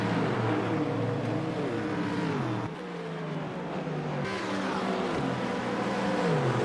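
A Porsche and other GT3 race cars battle side by side at Road America in a racing video game, their engines whining through shifting gears at steady full volume, overlapping and rising and falling together without talk.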